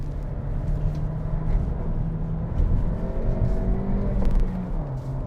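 A 2023 Acura Integra driven briskly through a hard right-hand corner, its engine a steady, moderately loud hum with rising and falling pitch under tyre and road noise, heard from inside the cabin.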